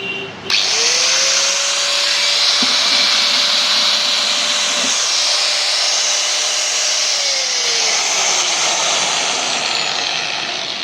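A DeWalt DW801 angle grinder spins up after a switch click and runs at a steady high-pitched whine for about ten seconds, loud and close, then begins to wind down.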